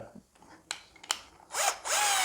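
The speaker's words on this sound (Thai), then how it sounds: "มาดูโหมด เจาะปูนนะครับ คือโหมดกระแทก" A Bosch GSB 120-LI 12V cordless drill in hammer mode gives a few short clicks and brief whirs, then two sustained loud high-pitched runs near the end, close by with no talking.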